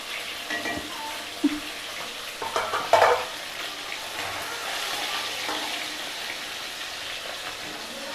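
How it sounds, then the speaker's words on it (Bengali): Singh (stinging catfish) pieces fry in hot oil in a home kitchen, a steady soft sizzle with light stirring and a few utensil clicks partway through. "মাছগুলো হালকা করে ভেজে নেব"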